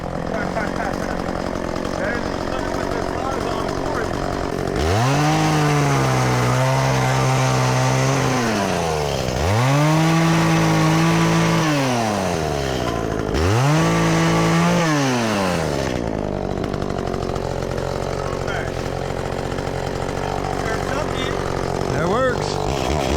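A chainsaw cutting up a dock revs in three long loud bursts, each rising and settling into a steady whine before dropping back to a low idle between cuts, with no clear talk.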